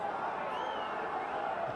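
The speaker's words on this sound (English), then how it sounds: "Hear the hissing and the booing." Rugby crowd at a Benetton versus Scarlets match hissing and booing, a continuous sustained wash of disapproving noise at moderate level, with a commentator talking over it.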